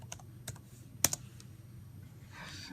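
Typing on a computer keyboard, a few quiet, irregular key clicks with one sharper tap, set against a low, faint room hum.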